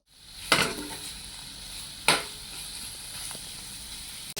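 Black nightshade (ganike) greens frying in a pan: a steady, close sizzle broken by two sharp scraping stir strokes, with no voices.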